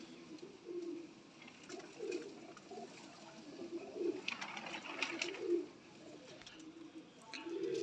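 Lakha pigeons, a breeding pair, give soft, low, repeated coos at an unhurried rhythm, close by, with faint chirps and light background noise between calls.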